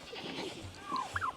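A sick young goat with parasites gives a couple of short bleats near the end, close and moderately loud over rustling farmyard background.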